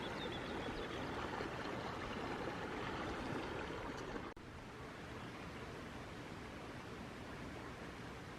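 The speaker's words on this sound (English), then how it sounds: "So there's our little creek with the fish" Steady broadband rush of flowing water from a small creek with fish, Shingle Creek, running continuously nearby, with a brief dip partway through.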